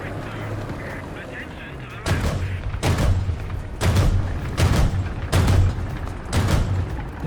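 Repeated tank cannon shots in a video game, six sharp booming blasts spaced about a second apart over a steady low engine rumble, loud and close.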